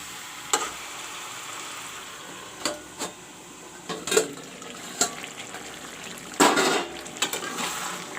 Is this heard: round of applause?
no